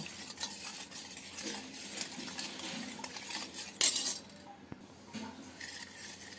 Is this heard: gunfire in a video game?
no